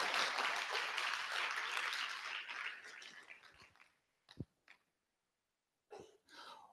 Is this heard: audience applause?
yes